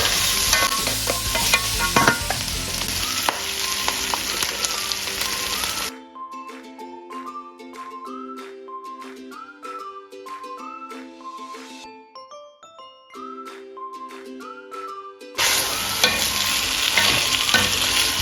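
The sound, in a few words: pork being sautéed in a pan for caldereta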